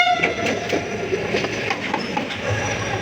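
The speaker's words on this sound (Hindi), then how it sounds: "इंडिया ट्रेन पास हो रही है, आई थिंक कोई ट्रेन लेट होगी।" A train rolls past on a railway track at night with steady rumbling and rhythmic clicking of wheels over rail joints, fairly close and continuous.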